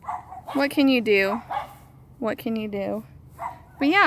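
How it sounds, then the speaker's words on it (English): Neighborhood dogs bark in short bursts outdoors near a blackberry patch, heard mixed with a person talking close by. "Sorry for the neighbor dogs."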